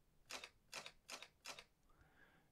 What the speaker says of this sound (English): that's actually the shutter opening and closing